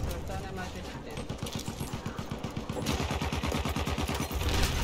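Rapid automatic gunfire from the video game Battlefield 1 rattles in fast regular bursts, growing louder midway, with a voice talking over the shooting.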